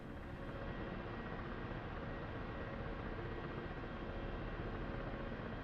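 Helicopter in the DCS World flight simulator game, heard as a steady, unbroken rotor and engine drone that holds at an even level throughout, with no voices.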